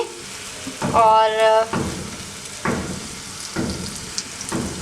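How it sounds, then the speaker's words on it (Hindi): Daal shami kebabs shallow frying in hot oil, a loud sizzle bursting as each patty goes in, then steady crackling with a brief spoken word over it. "तो चलिए आइए अब इन्हें फ्राई करते हैं।"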